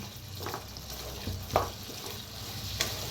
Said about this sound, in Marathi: आता भाजीला मिक्स करून घेऊया